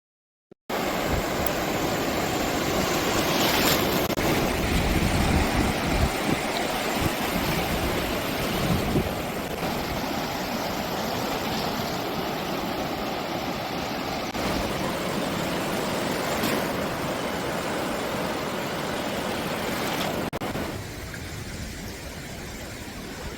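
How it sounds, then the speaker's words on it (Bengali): Steady broadband wash of sea waves rolling onto the beach at Mandarmani at low tide, a continuous roar with gentle surges and no voices. "তখন সমুদ্রটা দেখা যাচ্ছে, এই পুরো জল এসে ভরে আবার ওই অবধি চলে যাবে যখন জোয়ার থাকবে।"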